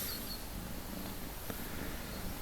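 Soft, continuous purring from a nearby ginger cat, a steady low rumble throughout with no talk.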